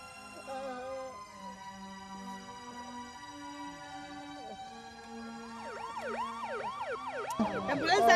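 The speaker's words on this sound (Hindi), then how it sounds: "एम्बुलेंस आ गया भैया।" An ambulance siren wails in rising and falling sweeps, growing louder as it approaches over faint background music.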